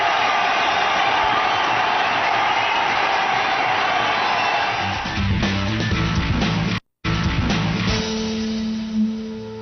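A large cricket stadium crowd in Sharjah roars and cheers at a six during an India–Australia Coca-Cola Cup match, a loud sustained wash of noise that fades as a commentator's voice comes in.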